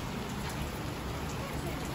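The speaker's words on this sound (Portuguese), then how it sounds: "E é isso aí, chuva." Steady rain falls over a city street on Christmas Eve, a broad, even hiss of drops on surfaces that holds constant throughout the short stretch, with no clear voices over it.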